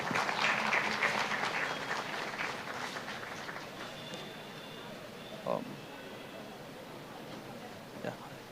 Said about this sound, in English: Please give a warm round of applause for Mr.